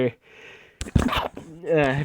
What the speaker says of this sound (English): sorry, I just sneezed there